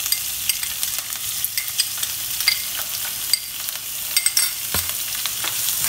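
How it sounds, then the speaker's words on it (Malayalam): Crushed shallots and red chillies sauté in a hot pan for a Kerala-style spinach thoran, a steady crackling sizzle with scattered sharp pops and occasional spoon scrapes, close and continuous with no voices. "ഇതിന്റെ പച്ചമണം മാറുന്ന വരെ ഇത് സോട്ട് ചെയ്ത് കൊടുക്കണം"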